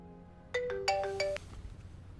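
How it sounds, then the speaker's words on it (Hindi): A phone ringtone plays a short melodic run of bright tones, four quick notes over about a second, fairly clear against a quiet room. "फोन बज उठता है"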